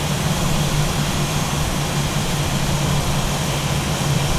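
An A320 jet airliner taxiing in a flight simulator game, a steady loud engine roar with a low hum running unchanged throughout, no voices.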